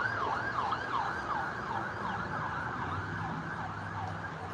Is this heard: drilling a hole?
no